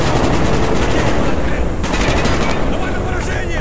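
Dense, continuous gunfire during a Call of Duty Black Ops campaign firefight, a loud unbroken wall of automatic fire and blasts with hardly any pause.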